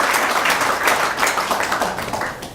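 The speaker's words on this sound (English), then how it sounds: "I want us to give Lemmy a big round of applause for his work as a heritage" Loud, close applause from a gathered audience at a local meeting, dense continuous clapping that holds steady and then eases slightly toward the end.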